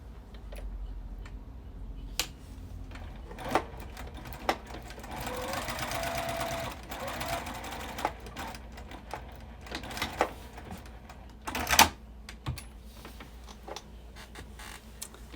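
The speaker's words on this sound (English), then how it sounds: "We're going to draw a line across, sew, do the other side and sew across there" Sewing machine stitching across vintage fabric for a dress block, a steady mechanical run in bursts with small clicks and a sharper knock near the end, fairly close, with no talk.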